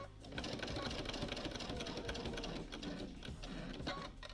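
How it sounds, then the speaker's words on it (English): A domestic sewing machine stitches a machine-sewn quilt binding in one steady, close, loud whirring run with a fast mechanical chatter and no pauses. "Just going to sew a little bit further so that I can flip that over"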